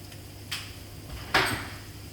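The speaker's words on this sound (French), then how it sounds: "Je vais mettre le couvercle." A lid set onto a pot of baking potatoes in a home kitchen, with a light clink followed by a louder metallic clatter as it settles, close and brief over a quiet background hum.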